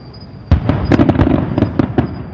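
Fireworks go off outdoors during a New Year live stream, a dense run of loud sharp bangs and crackling bursts, several close together over a rumbling background.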